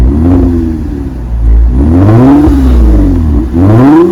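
A 2020 Toyota Camry TRD engine revs hard through its exhaust, loud and close, with repeated rising and falling sweeps of pitch as the throttle is blipped several times, and no voices over it.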